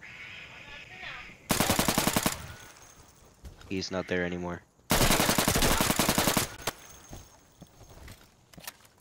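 Bursts of rapid automatic AR rifle fire in a video game crackle loudly in two long volleys, separated by a short mechanical reload clatter, while a player talks briefly.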